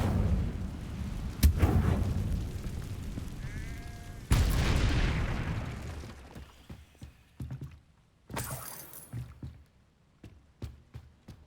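An Incendio fire spell is cast in Hogwarts Legacy with a loud whooshing burst, then booming impacts and crackling, followed by scattered sharp clicks and thuds that fade.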